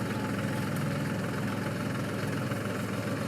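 A Mahindra tractor engine runs at a steady idle nearby, a continuous loud low rumble with mechanical vibration and no voices.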